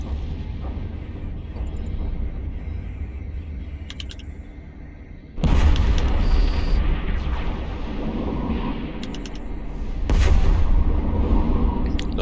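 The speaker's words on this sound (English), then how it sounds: "Those are some pretty hefty explosions." Heavy explosions from spaceship combat in the space game EVE Online, deep booming blasts rolling over a constant rumbling background, with a loud burst around the middle and another toward the end.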